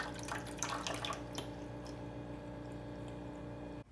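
A pet water fountain runs steadily, a continuous trickle and drip of water with a low electric pump hum beneath, close and fairly quiet, with a few brighter splashes early on before cutting off abruptly at the end.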